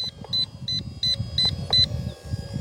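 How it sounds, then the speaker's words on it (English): A device gives a series of about six short, evenly spaced high beeps over a low background rumble, fairly close and clear. "So you're supposed to go up and then it's beeping."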